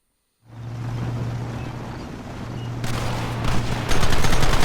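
Gunfire from army soldiers in the video game Red Dead Redemption, a dense, continuous roar of rapid shots that grows louder and more crowded toward the end, with a steady low hum underneath and no talking.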